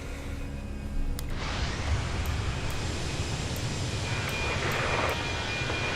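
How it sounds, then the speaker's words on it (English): A Fenix Airbus A320 jet takes off in Microsoft Flight Simulator, its engines giving a broad, steady roar with a faint high whine, and a few light clicks on top. "Oh, what a takeoff."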